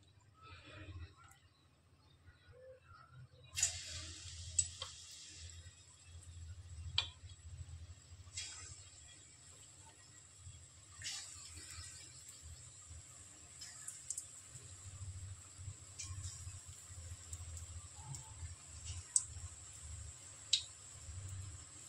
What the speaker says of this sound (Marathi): आता ही भजी आपण या तेलात सोडू।